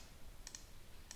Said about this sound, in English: Press spacebar, release spacebar,